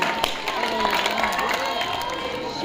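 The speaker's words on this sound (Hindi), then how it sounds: "जोरदार तालियां एक बार प्लीज।" An audience at a 12th-class school farewell party applauds a soon-to-retire teacher. Brief, crowded clapping and cheering runs under voices throughout.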